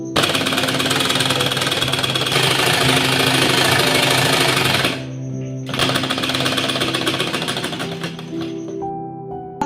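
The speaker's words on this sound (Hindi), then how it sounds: "बस इसी तरह हमें मोड़कर सिलाई लगा लेनी है पूरे में इस तरह से फिनिशिंग के साथ।" A sewing machine stitches the button placket of a child's designer shirt in a loud, continuous mechanical whir that stops briefly partway through, then resumes at the same rapid pace.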